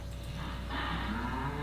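Cattle in a farming video game give a low, drawn-out moo inside a barn, one long call over a steady ambient drone.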